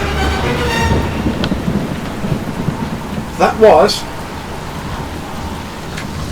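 During Storm Dennis, heavy rain pours steadily at a camping spot while thunder rumbles low, and a voice speaks briefly midway.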